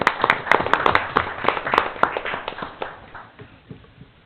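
Scattered hand claps from a small group at a school board of trustees meeting, a brief round of applause that thins out and fades over a few seconds.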